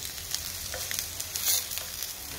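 Beef patties fry in a pan with a soft, steady sizzle and occasional crackles and pops, quiet and close, with no talk.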